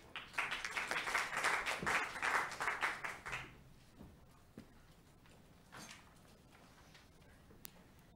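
A concert audience applauds a school wind band's clarinet ensemble with a burst of dense clapping for about three seconds that stops abruptly, followed by a quiet room with a few scattered knocks.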